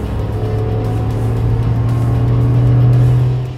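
Engine and road noise of a Maruti Alto K10 AGS driving at about 70-80 km/h, a steady droning hum that swells slightly, heard from inside the car with no talking.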